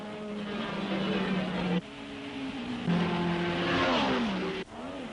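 1961 Formula One race cars at the Belgian Grand Prix, engines screaming past and revving up and down through gear changes, loud and close. An announcer's voice runs beneath.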